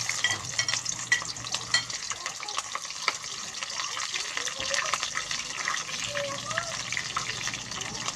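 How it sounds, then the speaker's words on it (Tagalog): Onions frying in a pan for pansit, a steady broadband sizzle and crackle running throughout at moderate level, with occasional stirring clatter and faint talk in the background. "sibuyas ang ilagay natin guys"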